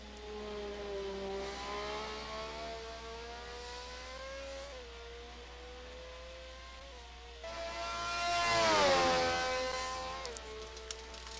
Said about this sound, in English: Almost sounds like a Formula One car going down that straight.